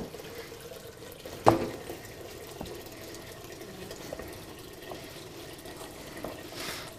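Water runs steadily from a tap into a stainless steel pot half filled for cooking, a continuous wash of splashing with a single sharp clank early on and no voices.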